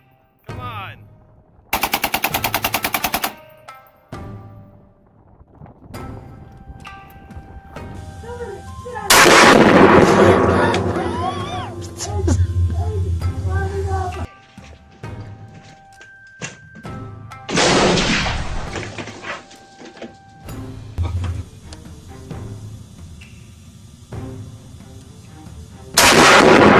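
Full-auto handgun fire at a shooting range, loud sharp bursts of rapid shots separated by gaps, with ringing echoes and some background commotion between strings.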